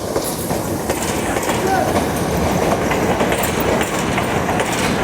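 Manmad–Dharmabad Marathwada Express train arriving, a steady loud rumble of rolling wagons with faint clickety-clack of wheels throughout, close by and continuous.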